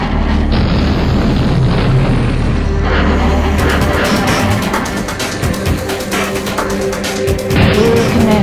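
A troop transport blows up in the 1996 PC game Hellbender: a loud, sustained roaring blast fills the clip, followed by a rapid run of crackling, rattling debris bursts toward the end, with no voices.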